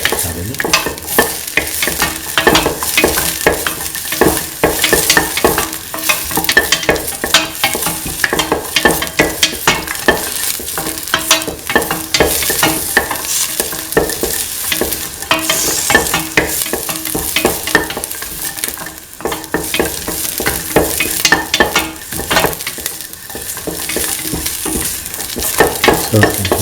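Garlic and shallots sauté in a hot pan for a stew of mint and kidney beans, giving a steady, loud crackling sizzle with the frequent scrape and clatter of stirring throughout.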